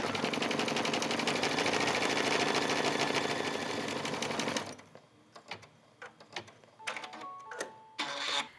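An embroidery machine stitches a letter K embellishment, running steadily with a dense rapid needle chatter for several seconds, then stops, leaving faint clicks and small mechanical handling noises.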